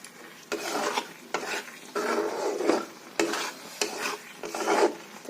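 A spoon scrapes and stirs a cooked dish in a pan after raw mustard oil is poured in. The rasping strokes come in rhythmic bursts of about a second, separated by brief pauses, and are close and moderately loud with no talking.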